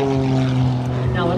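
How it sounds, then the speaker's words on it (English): An MX2 carbon fiber aerobatic airplane's engine drones loudly with a steady propeller tone at an air show open house, with a voice talking over it. "Now let me tell you a little bit more about this beautiful MX2."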